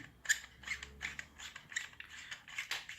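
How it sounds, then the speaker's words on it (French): The pommel of a Basque makila walking stick is unscrewed in a quiet, close series of dry ratcheting creaks and scrapes that come in short irregular bursts. "On dévisse entièrement le pommeau."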